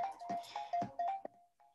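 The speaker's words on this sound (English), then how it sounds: "Sorry, my phone, I can't make that stop." A mobile phone ringtone plays a repeating melodic tone, interrupted by several short knocks or handling bumps, fairly close and fading out near the end.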